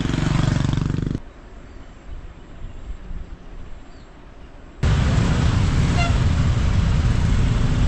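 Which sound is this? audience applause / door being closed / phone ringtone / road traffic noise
road traffic noise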